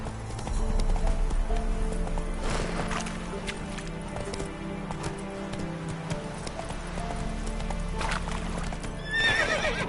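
Horse galloping in The Witcher 3: rapid rhythmic hoofbeats throughout, with a loud neigh and whinny rising near the end, close and clear.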